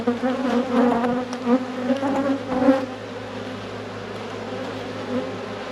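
Honeybees buzzing around an open hive, a close, dense, continuous drone with swelling, wavering pitch for several seconds, then settling to a steadier, softer hum.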